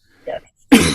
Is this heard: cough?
yes